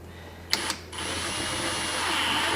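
A power drill bores a hole for a spoiler on a 2021 Toyota hatchback, a couple of sharp clicks followed by a steady high whine that holds and builds slightly, close by.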